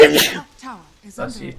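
A sharp, loud sneeze bursts out at the start, close to the microphone, followed by people talking during a Dota 2 inhouse game.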